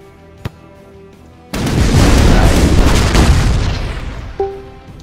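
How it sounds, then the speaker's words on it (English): An airstrike in ShellShock Live begins with a brief pop, then erupts into a loud, sustained rumbling blast of overlapping explosions that slowly fades, followed by a short chime-like tone near the end. "I do have an airstrike."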